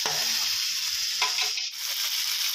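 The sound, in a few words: chicken being stir-fried and turned in a pan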